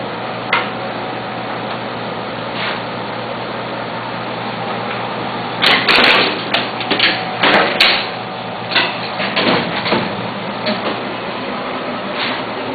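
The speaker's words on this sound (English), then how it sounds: "The set entering the stitcher, exiting into the folder, into the trimmer." A Bourg SBM digital booklet maker stitches, folds and trims booklets under a constant mechanical hum, punctuated by repeated clunks and thumps of sets moving through the stitcher, folder and trimmer.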